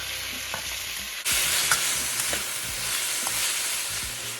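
Pork and fresh garden vegetables stir-frying in a new wok, a loud steady sizzle that jumps up as food hits the hot metal, with occasional scrapes and clinks of stirring, no voices.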